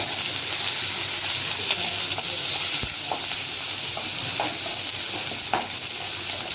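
Onion and curry leaves sauté in a pan with a loud, dense, continuous sizzle and hiss, broken by occasional scraping stirs and small pops, close up with no talking.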